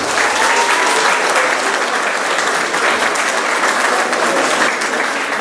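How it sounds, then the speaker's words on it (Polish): Sustained, loud audience applause fills a school studniówka ball in Tomaszów County, Poland, steady and dense throughout without a break. "a to oznacza brawa, moi drodzy"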